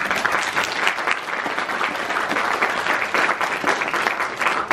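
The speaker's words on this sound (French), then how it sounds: "je vous demande de l'applaudir." An audience at a Medef event for the 2017 presidential election applauds a speaker with sustained, dense clapping that fills the hall evenly from start to finish.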